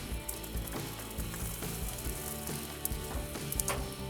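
A thick T-bone steak sears over hot coals on a grill, giving a steady, dense sizzle and crackle with small pops throughout, close and continuous without any voices.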